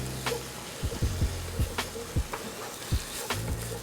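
Tomato paste being stirred into spinach, garlic and shallots in a sizzling pan, a close, steady fry with regular spoon knocks and scrapes at a slow, even rhythm.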